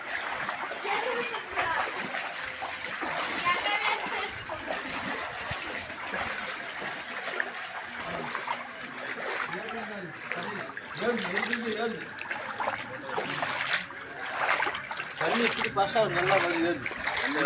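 Water pours steadily over a dam near Kundu Uppalavadi in Cuddalore, making a continuous splashing rush while people talk over it throughout.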